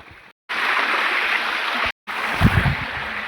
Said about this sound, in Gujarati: બહુ બધા મસ્ત મજાનું પાણી ચાલુ છે આખા ગિરનાર ઉપર.